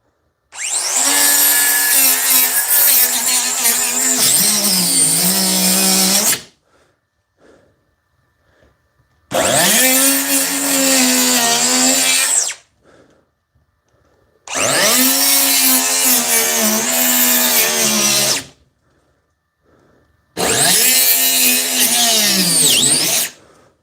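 A Dewalt 20V DCS438 cut-off tool slices through a box in four long, loud bursts of high whining grind, each several seconds long, with short quiet pauses between them and no talking.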